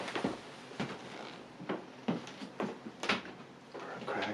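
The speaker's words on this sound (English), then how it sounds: "I'm gonna shut the bedroom door." A bedroom door closes, with a series of sharp knocks, latch clicks and creaks coming close and fairly loud in a quiet room.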